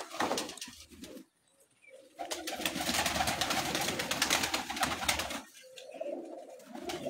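Pigeons coo on a rooftop loft, with a burst of dense, loud bird noise and possible wing flutter after a short pause, then softer cooing near the end.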